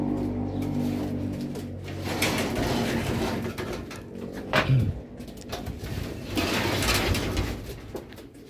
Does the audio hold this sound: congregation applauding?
no